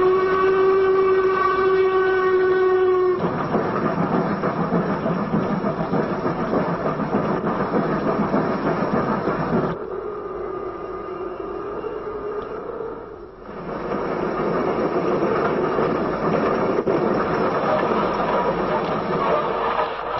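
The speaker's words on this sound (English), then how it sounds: "a locomotive of the North British Railway Company was ready to pull the Sunday mail train to Burntisland station" A North British Railway locomotive hauling the Sunday mail train toward Burntisland, a steady loud rumble of rolling wagons that opens with a sustained whistle tone, then dips and surges again as the train runs on.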